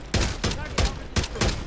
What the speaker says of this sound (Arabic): مش عيب اتاك بسلاح زي ده بيضرب طلقة طلقة